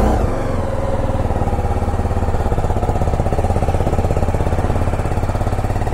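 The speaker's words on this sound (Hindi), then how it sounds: "एक बार ही जरा इसको स्टार्ट करके छोड़ देता हूँ क्योंकि एक डेढ़ हफ्ते से चला ही नहीं है भाई" A BMW G310RR motorcycle engine, unridden for about ten days, runs at a steady rapid idle, a loud close chugging pulse that holds evenly throughout with no talk.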